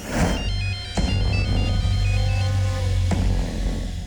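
A telephone rings loudly and close, with repeated electronic ringtone bursts over a steady low hum and no one speaking.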